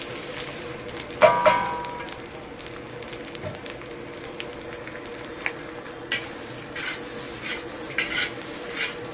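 A spice mix with turmeric and garam masala being stirred and dry-roasted in a pan, with a soft continuous sizzle, a spoon scraping and a few clinks, close and moderately quiet.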